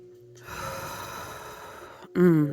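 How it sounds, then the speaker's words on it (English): A single deep breath, a long drawn inhalation of about one and a half seconds, followed by a short louder voiced exhale or sigh at the end, close to the microphone. "Take a deep breath."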